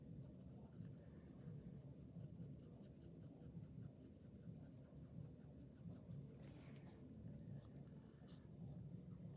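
Pencil shading a graphite swatch on paper, a quiet continuous scratchy rubbing of strokes going back and forth, close and faint against low background hum.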